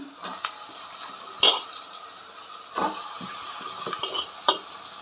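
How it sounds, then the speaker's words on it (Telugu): Chicken gravy curry with onion, green chilli, ginger paste, chilli powder and salt goes into a pot, heard as quiet wet plops, soft splashes and a few light clinks spread over several seconds. "ఇదిగోండి కూర వేసేసుకుందాం"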